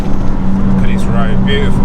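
A Renault Clio 182 Trophy engine drones steadily from inside the cabin as the car pulls through the gears, a continuous loud hum under a voice talking over it.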